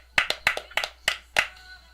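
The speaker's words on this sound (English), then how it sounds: "Oh, clapping is great." Six sharp hand claps in an uneven, quick rhythm, close and fairly loud, a short burst of applause on a podcast set.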